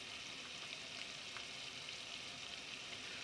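Garlic and ginger paste frying in a pan, a faint, steady sizzle with soft crackling pops, continuous and without any talking.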